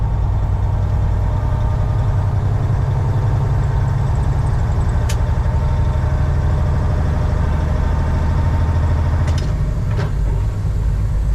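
A 2001 Western Star 4964EX truck's heavy diesel engine runs steadily close by as gears are shifted, a loud low rumble with a few brief clicks and clunks.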